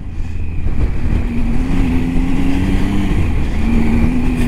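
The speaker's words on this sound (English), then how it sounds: "Give it some throttle up here now, up on these rocks and gravel." A Triumph Tiger 800 XCA motorcycle accelerates off-road over rocks and gravel, its engine giving a loud, continuous rumbling drone that climbs in pitch as the throttle opens, close up and with no talking.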